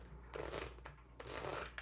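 Tarot cards are riffled and shuffled in two quick bursts of crisp fluttering, close and fairly soft, with a brief pause between them.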